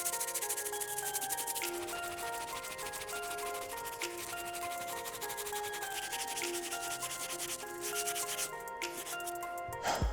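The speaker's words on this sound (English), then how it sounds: "Let's finish off strong with our last brush, which is our stiff bristle. We'll use this brush to clean up these soles" A stiff bristle brush scrubs the soles of a 2008 Jordan 12 sneaker, giving close, continuous scratchy rubbing with quick back-and-forth strokes over about ten seconds, with no voices.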